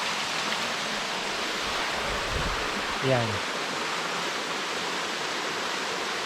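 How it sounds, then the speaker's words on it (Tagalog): Mountain water at Kakawayan falls in Infanta, Quezon rushes in a constant, close hiss with no break, and a short spoken word cuts in about halfway through. "Kaya yun yung kagandahan dito, kasi running water siya."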